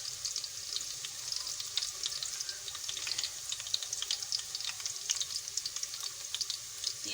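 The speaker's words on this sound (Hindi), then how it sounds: "और अब मैं प्याज ब्राउन करूँगी, फिर इसमें मसाले डालूँगी मैं भूनने के लिए।" Onions browning in mustard oil in a pot, giving a steady, close sizzle and crackle of frying with faint bubbling throughout and no talking.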